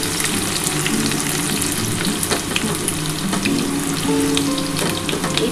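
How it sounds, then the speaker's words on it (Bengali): Onion drops into hot oil already tempered with whole cumin and fries loudly, a dense close sizzle and crackle that holds steady throughout. "তেলটা আমার গরমই হয়ে গেছে। এবারে এই পেঁয়াজটা দিয়ে দিচ্ছি।"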